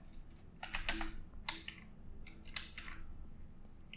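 Keys clatter in short irregular bursts on a computer keyboard as C++ code is typed, close and moderately loud with brief pauses between flurries.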